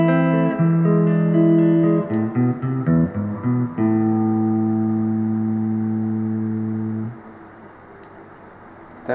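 Guitar playing a passage: a handful of plucked notes and chords, then a long sustained chord ringing out and fading over several seconds, with no talking.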